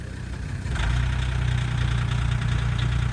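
A car engine, just jump-started from a battery at an off-grid property, settles into a steady, rumbling idle that grows louder and fuller after a brief initial moment and then holds an even, throbbing tone.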